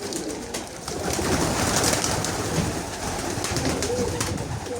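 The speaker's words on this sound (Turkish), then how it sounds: "Kuşlar bunlar." Pigeons coo repeatedly outdoors, a steady chorus of soft throaty calls over a constant hiss of background noise, close and fairly loud throughout.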